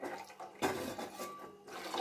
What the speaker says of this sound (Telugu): ఇప్పుడు వాటర్ వేస్తున్నానండి